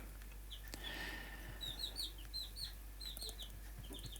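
Hens of an aggressive breed on a home farm cluck and squawk in a series of short, repeated calls, fairly close, with faint background hum and no talking.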